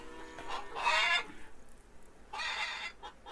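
Chickens clucking inside a hen house in the farming game Farmer's Dynasty, two bursts of busy hen calls with a short quiet gap between them, close and clear with no talking.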